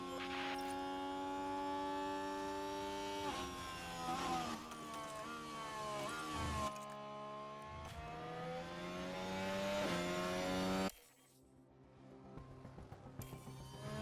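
A Formula 1 car's engine on an outlap in the F1 Manager 2024 racing game, a loud high-pitched whine that climbs through repeated gear shifts, then drops to a rougher, fainter rumble near the end.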